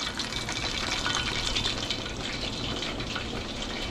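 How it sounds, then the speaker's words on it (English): Scorpion fish deep-frying whole in hot oil, a steady dense sizzle and crackle of bubbling oil that holds at an even level throughout, with no voices. "Deep frying"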